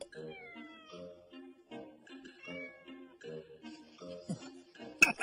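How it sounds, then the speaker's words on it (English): A cat meows repeatedly, a series of drawn-out, wavering mews close to the listener, ending with a sharp click. "That's the cat."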